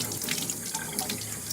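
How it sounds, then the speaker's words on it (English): A kitchen tap runs water over a dry sponge before it is used to clean up after linoleum block printing, giving a close, steady gush and splash with no talk over it. "This one's kind of dry, so I'm going to wet it."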